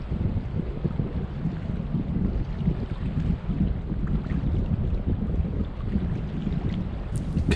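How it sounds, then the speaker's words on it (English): Brisk, fresh northwesterly wind on a cool, overcast day by the sea, buffeting the microphone as a continuous low rumble with gusty surges and no talk. "The wind had switched to a brisk and fresh northwesterly."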